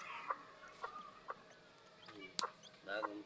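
Three newly hatched Serama chicks give faint, high chirps in short, scattered bursts close by, with a few louder peeps.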